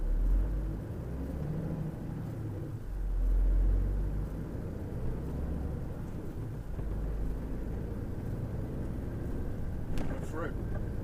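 A truck's engine rumbles steadily as it drives through a set of traffic lights in UK traffic, with a deep continuous drone and someone talking over it.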